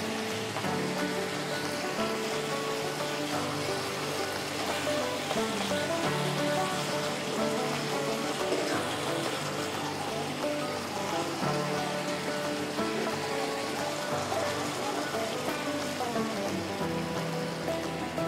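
Chicken gravy in a pan hisses and crackles after water is poured in, a steady, rain-like sizzle that continues unbroken and fairly loud throughout, with faint tonal sounds in the background.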